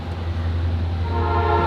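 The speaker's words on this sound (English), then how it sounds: "Damn, that train just coming through here, ain't it?" A passing train rumbles steadily nearby, and its horn starts sounding partway through, a sustained tone over the low rolling noise.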